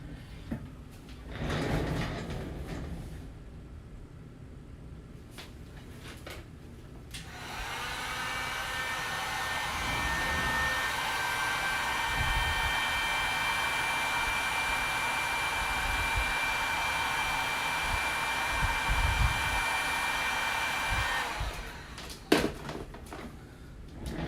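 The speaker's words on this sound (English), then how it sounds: "You'll hear the heat gun going here." A heat gun shrinks heat-shrink tubing over an eyelet during a repair, with a few handling clunks at first, then a long, steady, close blowing roar that cuts off near the end before brief knocks.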